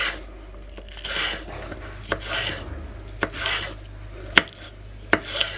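A knife chops through homemade chicken rolls wrapped in seaweed on a board, giving about half a dozen sharp, separate knocks at an uneven pace over a soft scraping background.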